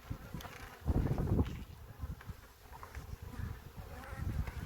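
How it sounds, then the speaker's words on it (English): A dense buzzing of many honeybees at the hive, close and continuous, swelling louder for a moment early on, with no voices. "So bees are preparing for swarming season."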